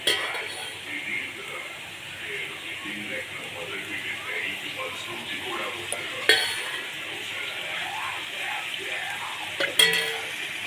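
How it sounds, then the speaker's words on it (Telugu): Prawns for prawn biryani fry in oil with a soft, continuous sizzle under occasional scrapes and clinks of a utensil against the pan, with a couple of sharper knocks and a voice talking over it. "ఇప్పుడు మనం ఇందులో కొంచెం ఆయిల్ వేసుకొని చక్కగా రొయ్యలు ఫ్రై చేసుకుందాం"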